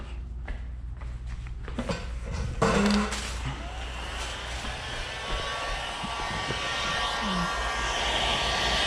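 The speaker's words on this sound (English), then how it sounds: "let's grab our heat gun now" A heat gun blows during windshield tint work on a car, a broad steady airy roar that kicks in after a few seconds of handling clatter and holds on continuously, fairly close.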